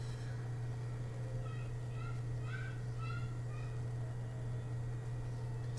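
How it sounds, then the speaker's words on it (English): Birds call outdoors in a few short, bright chirps and trills over a loud, constant low hum that runs throughout. "I can hear some birds."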